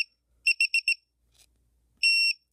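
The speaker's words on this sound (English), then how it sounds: "Okay, it's beeping. That tells me that it's in wired mode because it senses no signal and no battery power." A Drone Keeper Mini lost-model alarm sounds in wired mode: a quick series of four shrill electronic beeps, a faint chirp, then one longer sustained tone, close and clear with no talking.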